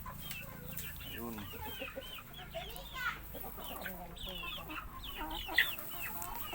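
Chickens in a coop lined with rice hulls, cluck and squawk steadily and close by, with a few sharper calls standing out and soft talk faintly underneath.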